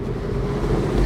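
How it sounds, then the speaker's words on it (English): Turbocharged 1.5 engine of an F56 MINI Cooper rumbling loudly and steadily for about a second, heavy low-end roar with broadband rushing noise and no speech. "Let's get some turbo noises down here."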